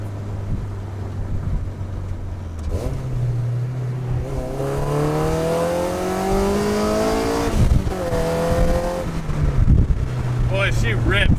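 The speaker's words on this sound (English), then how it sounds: "I'm gonna try to hit like a high RPM, second or third gear, see what happens." A 1996–2000 Honda Civic EK with a swapped, untuned K24 engine revs hard through second or third gear toward high RPM, its rising engine tone climbing and dropping between shifts, close and loud, with people talking over it.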